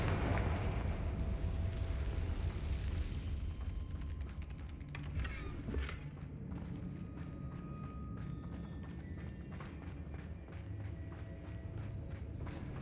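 A Confringo fire spell in Hogwarts Legacy bursts into a loud, roaring explosion at the start, then trails off into a lingering rumble with scattered crackling debris and faint footsteps.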